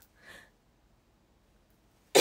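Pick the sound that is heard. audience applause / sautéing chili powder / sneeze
sneeze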